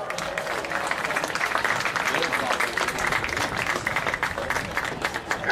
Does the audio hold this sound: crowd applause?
yes